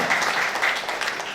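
A church congregation claps in praise of God during a sermon, a brief, steady burst of many hands clapping together.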